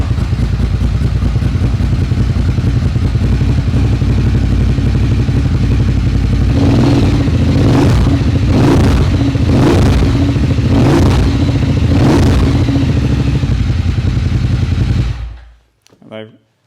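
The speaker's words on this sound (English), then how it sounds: "it just means it's a very pure, sweet, sort of deep V-twin rumble" A Ducati Sport Classic V-twin rumbles loud and close at idle, then blips through a series of about five rhythmic revs before cutting off abruptly near the end.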